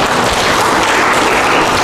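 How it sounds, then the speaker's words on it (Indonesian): Congregation applause during a church service, a dense, loud burst of many hands clapping close by, sustained evenly for the whole moment. "Beri tepuk tangan dulu, beri pujian bagi Allah kita."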